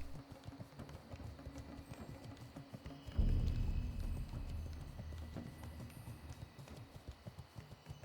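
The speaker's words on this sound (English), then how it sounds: "Sound engineers have done a good job with the horse, with the unicorn. Clip clop." Unicorn mount hooves clip-clopping on the ground in the online role-playing game Turtle WoW, a steady rhythmic trot heard at moderate distance, with a brief louder rumble partway through.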